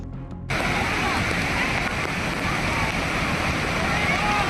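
Strong currents of a waterfall behind Bhushi Dam in Lonavala roar as a loud, continuous rushing wash that bursts in abruptly after a brief quiet start and holds steady throughout.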